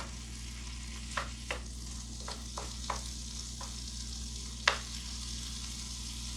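Chicken cooking in a pan, a low steady sizzle over a constant hum, punctuated by a handful of sharp clicks and scrapes of a utensil, quiet and close with no talking.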